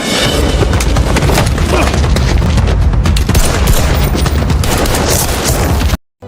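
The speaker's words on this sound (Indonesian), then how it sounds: "Tembak-tembakan pun terjadi." A loud gunfire shootout from a film: rapid bursts of shots and booming impacts pound continuously, then cut off abruptly.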